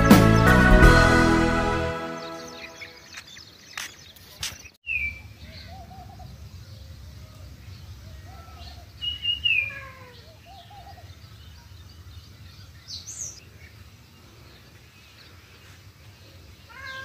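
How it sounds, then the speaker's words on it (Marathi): Morning birds chirp and call in a rural village setting, scattered short high notes across a quiet background, preceded by a loud burst of noise at the start and a low steady rumble underneath. "सकाळच्या पक्ष्यांची किलबिलाट"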